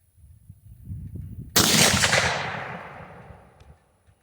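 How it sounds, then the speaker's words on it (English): An 8mm Mauser rifle loaded with cast bullets fires a single loud, close shot that cracks sharply, then decays in a long rolling echo over about two seconds, with faint rustling before it. "This thing is so much fun to shoot."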